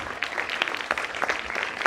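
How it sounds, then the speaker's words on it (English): An award ceremony audience claps together, a burst of applause with dense, uneven hand claps throughout. "Give them a clap."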